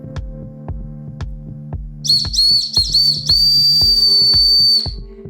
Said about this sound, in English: it's a beautiful but terrible whistle